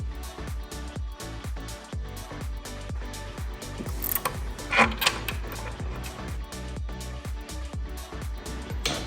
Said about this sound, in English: We're gonna take out the bolt right here on the fender